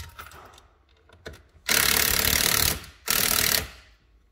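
A low-torque power driver loosens the screws holding the multimedia unit in a Mercedes W209, giving two loud, close bursts of rapid mechanical chatter, the first about a second long and the second shorter, with quiet handling noises before them.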